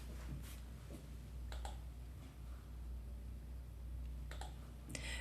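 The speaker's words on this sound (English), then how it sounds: "we'll click save and we're going to try this one out" A few sharp mouse clicks saving a setting in an app, isolated little ticks with short gaps between them over a low steady room hum, close but quiet and without speech.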